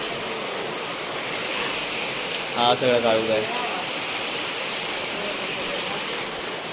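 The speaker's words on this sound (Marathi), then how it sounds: "पाऊस खूप लागतोय इकडे" Heavy monsoon rain falls in Konkan as a steady, dense hiss that fills the whole stretch, with a person speaking briefly in the middle over it.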